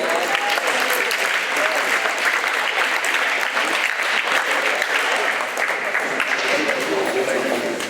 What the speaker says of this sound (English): Let's give them a round of applause on the way up.